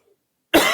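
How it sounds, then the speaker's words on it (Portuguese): A single sharp cough bursts out suddenly after near silence, close and loud, from a man teaching a math lesson. "que a tosse agora atacou aqui"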